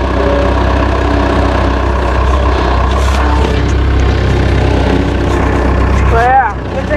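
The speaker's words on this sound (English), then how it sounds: "good thing I got a Gale skid steer. If you're getting a skid steer, get a Gale." A Gale skid steer engine idles with a steady, loud, low diesel drone that runs unbroken throughout, with people speaking over it.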